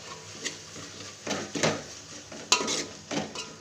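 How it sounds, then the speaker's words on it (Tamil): Onion, tomato and curry leaf paste being mixed into sautéed tomatoes in a pan, heard as scattered scraping and clinking stirs at close range over a faint sizzle, with no talking. "இப்போ அரைச்சி வச்ச வெங்காயம், தக்காளி, கருவேப்பிலை எல்லாம் அரைச்சி வச்சது இருக்கும், அதை மிக்ஸ் பண்ணிடுறேன்."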